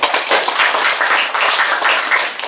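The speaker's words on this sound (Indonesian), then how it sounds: "Mari kita tepuk tangan untuk mereka-mereka ini." Audience clapping for the outgoing committee members of a church parish region, a steady, dense patter of many hands held at an even level throughout without a break.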